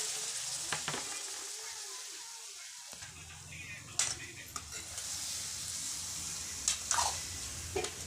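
Fish and cowpea masala sautéing in a pan, a soft steady sizzle with scattered stirring scrapes and clinks, fairly quiet and close.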